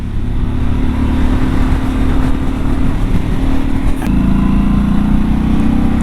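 A Harley-Davidson Pan America motorcycle on a ride on high roads, its engine droning loud and steady up close with a slight shift in pitch partway through, together with wind rush and no voices.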